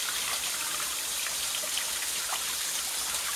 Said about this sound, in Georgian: ეს ის ლამაზი ჩანჩქერი.